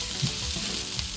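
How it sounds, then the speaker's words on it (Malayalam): Slit green chillies sauté in a pan on an induction cooker, a close, steady hissing sizzle with faint stirring movement underneath. "അതും ഇതിൻ്റെ കൂടെ ഒന്ന് ജസ്റ്റ് ഒന്ന് വഴറ്റിയെടുക്കാം."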